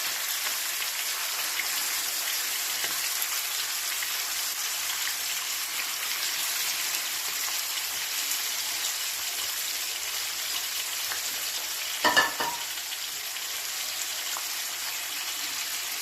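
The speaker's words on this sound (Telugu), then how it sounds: "ఆయిల్ వేడెక్కిన తర్వాత రొయ్యల్ని ఇందులో వేసేసుకున్నాం." Prawns fry in hot oil in a pan, a faint, even hiss that runs steadily throughout, with one brief clatter near the end.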